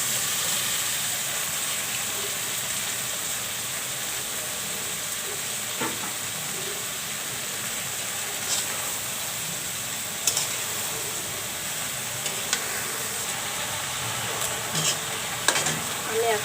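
Cut bottle gourd pieces fry with prawns in a pan. A long, even sizzle and hiss holds steady, with occasional faint clinks and stirring scrapes scattered through it.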